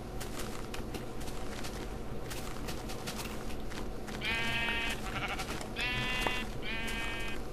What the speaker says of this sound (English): Oh, and sheep.